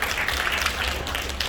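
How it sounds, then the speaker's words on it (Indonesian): Church congregation applauding at an anniversary service, a steady dense wash of clapping filling the space with no pauses, moderately loud and close. "Tepuk tangannya semangat."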